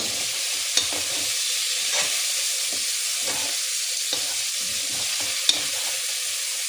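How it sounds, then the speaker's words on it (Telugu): Masala fries in a pan with a loud, constant sizzle, as a spatula stirs it with soft scrapes and a few sharp taps against the pan. "ఈ మసాలా కూడా బాగా ఫ్రై అయింది అనుకోండి."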